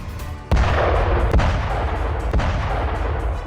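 Artillery fire in the Ukraine war, heard as a sudden heavy boom followed by two further thuds over a dense, continuous rumbling roar of distant bombardment.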